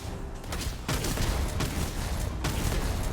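Gunshots in Starfield, with a couple of sharp, loud reports standing out against a dense, noisy game soundscape in a short burst of action.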